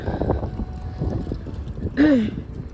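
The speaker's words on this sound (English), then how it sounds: "Very, very windy." Wind buffets the microphone in low rumbling gusts, with a brief whining tone rising and falling near the end.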